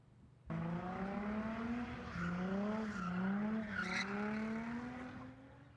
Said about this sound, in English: you can see some of the cars there doing donuts in the middle of the street